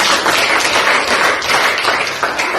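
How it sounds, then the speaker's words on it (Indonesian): A classroom group of students claps in sustained, dense applause, many hands patting quickly and steadily at moderate loudness with no voices over it. "Tepuk tangan buat kelompok"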